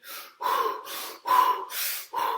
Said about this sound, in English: So we're breathing in, we're breathing out, we're creating electricity.